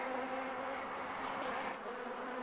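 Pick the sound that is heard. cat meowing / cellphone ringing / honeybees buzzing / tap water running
honeybees buzzing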